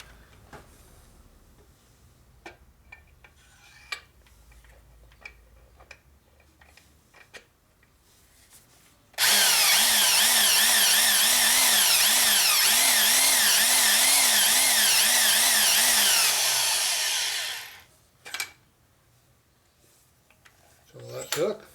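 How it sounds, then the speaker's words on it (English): A power drill drives a carbide-tipped reamer through a bushing during a 2001 Indian Scout 88ci big-bore engine rebuild, a loud steady whine of about eight seconds that winds down, with faint taps and clinks before and after. "I got my carbide tipped reamer here to use."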